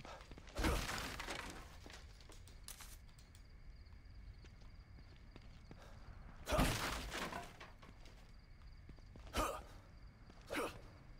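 Several loud wooden crates smash in the video game The Evil Within 2, at irregular intervals, each a sharp break with scattering debris, separated by quiet background hum.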